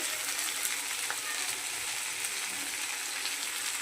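Spinach frying in a pan with salt, turmeric and ginger paste, a continuous hissing sizzle held at an even, moderate level throughout with no talk.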